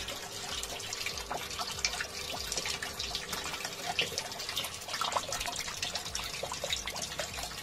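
Water from a pump pours into a household washing machine, a continuous splashing trickle with scattered drips and bubbling that stay fairly close and steady throughout.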